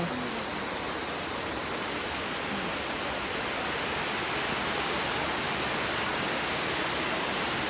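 A stream flows near a living root bridge in Shnongpdeng, giving a constant, dense, rushing roar that stays even throughout with no talk.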